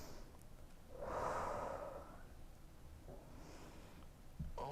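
Deep, audible breathing while holding a yoga splits stretch, one long strong exhale early then softer breaths, close to the mic over a quiet room.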